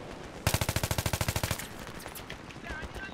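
A machine gun fires in a video game on the Azadi Palace map: a rapid burst of about fourteen loud, close shots over roughly a second, followed by quieter rumbling battle noise.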